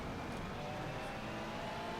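A race car drives the Nordschleife in the video game Assetto Corsa Competizione on PS5, a steady, fairly faint engine drone with a sustained mid-pitched tone and no talking.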